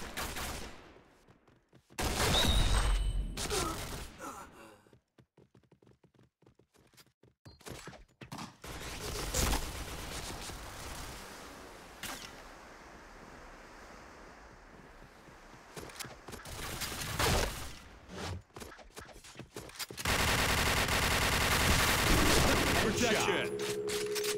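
Gunfire in the shooter game Point Blank, bursts of rapid shots and fusillades in loud clusters separated by quieter stretches, with game announcer voice calls heard between the firing.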